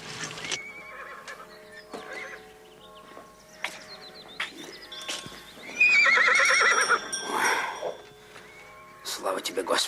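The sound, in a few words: horse neighing and hooves clopping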